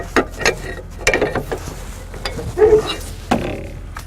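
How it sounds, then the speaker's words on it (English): Wrapper bar cranking a load binder tight on a chain over a log load, giving a series of separate metallic ratcheting clicks and clanks with short pauses between them, close by and moderately loud. "You'll have your wrapper bar and you can start tightening down."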